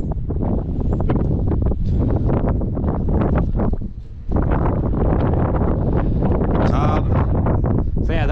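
Strong gusts buffet the microphone in loud, roaring bursts, dropping briefly before surging again, with faint rustling mixed in.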